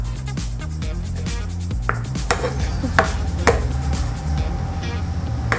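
Cooked spaghetti is tossed and mixed, with utensils knocking and clacking against the dish in irregular bursts, over a steady low musical background.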